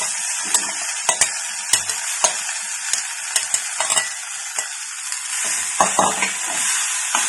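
A potato and okra masala curry mixture is stirred in a hot wok, giving a steady sizzle of frying with repeated scraping and clinking strokes from the spoon at an uneven rhythm, close and fairly loud, with no talking.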